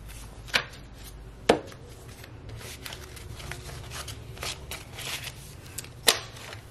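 Paper cash bills are handled and counted into a thick envelope, with soft rustling and flicking between a few sharper crisp snaps, heard close and quiet.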